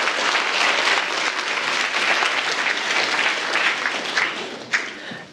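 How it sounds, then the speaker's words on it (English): A crowd at a talk gives a round of applause, a steady wash of many hands clapping that holds for several seconds and then tapers off. "Let's have a round of applause for silicon"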